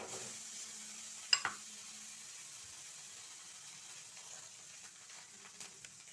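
Food roasting on a hot pan, a faint steady sizzle throughout with a couple of brief knocks of a utensil near the start, quiet and close.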